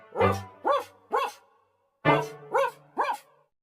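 Dog barking in two quick bursts of three sharp barks each, close and loud, separated by a short pause, with no talk over it.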